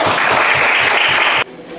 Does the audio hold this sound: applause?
yes